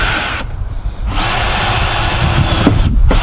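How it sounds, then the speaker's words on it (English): A power drill drives a bolt at slow speed while a solar panel is fitted to a van, giving a loud, steady whirring whine that dips briefly and then runs continuously up close. "I'll just put a bolt in now."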